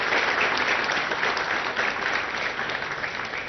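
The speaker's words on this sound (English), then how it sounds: "So I think a good round of applause to the entire team on that." A crowd at a political speech applauds steadily, dense clapping from many hands continuing throughout without pause.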